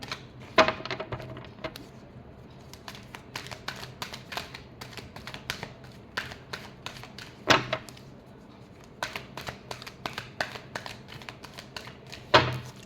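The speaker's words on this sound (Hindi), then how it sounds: "Last shuffle." Tarot cards are shuffled in quick riffling bursts, close and fairly quiet, with sharper snaps and taps between runs of soft flicking.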